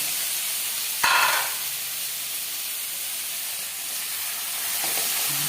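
Tomatoes drop onto softened onions sautéing in a pan for ginisang sardinas with green papaya, setting off a sudden loud burst of sizzling that settles into a steady hiss, with a light clatter near the end.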